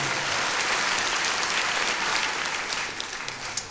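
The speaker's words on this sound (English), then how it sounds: "that deserves a big round of applause" A concert audience at a live show in Limerick breaks into a big round of applause, a dense, loud wash of clapping that holds steady, then thins slightly toward the end.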